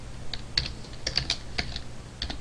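Typing on a computer keyboard, a loose run of close, crisp key clicks with uneven spacing, no voices.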